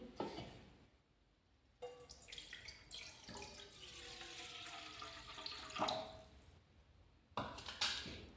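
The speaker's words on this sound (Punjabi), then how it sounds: "ਇੱਧਰ ਆਪਾਂ ਜੀ ਫਰਾਈ ਪੈਨ ਦੇ ਵਿੱਚ ਠੰਡਾ ਪਾਣੀ ਪਾਵਾਂਗੇ" Cold tap water runs into a frying pan on a switched-off gas stove, a steady splashing pour with brief pauses between bursts, close and fairly loud with no talking.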